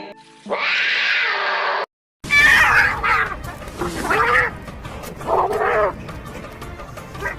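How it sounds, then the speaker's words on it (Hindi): Two cats yowl and screech at each other in a loud, drawn-out squabble, with rising and falling wails broken by a brief silence. "बिल्लियों का लड़ना"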